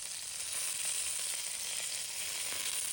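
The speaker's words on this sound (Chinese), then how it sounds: "用中火将饺子的底部煎约1分钟， 直到底部微微金黄，" Dumplings pan-frying over medium heat, their bottoms browning in a pan, give a steady, even sizzle throughout, close and continuous with no voices.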